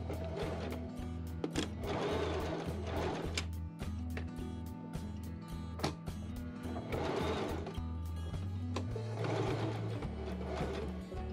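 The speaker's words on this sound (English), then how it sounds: "Time to sew all of that in place using a machine." A sewing machine stitches fabric for a face mask in steady runs of rapid mechanical whirring, pausing and restarting several times, close and moderately quiet with no voices.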